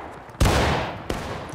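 Musket volley in the Civil War game War of Rights: two sharp, loud gunfire blasts about 0.7 seconds apart, the first heavy and booming, the second slightly lighter, each trailing off into smoky rumble.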